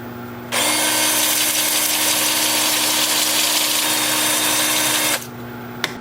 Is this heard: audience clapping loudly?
no